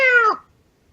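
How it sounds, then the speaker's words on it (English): A pet cat gives a single clear meow, close and loud, falling in pitch and ending abruptly, followed by near silence. "that was my pet cat"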